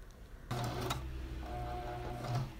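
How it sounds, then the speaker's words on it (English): A sewing machine stitches down both sides of an old pillow, starting abruptly with a quiet, close mechanical whir and light rhythmic needle ticking that continues steadily. "So here I'm just sewing down both of those sides and trimming my threads in between."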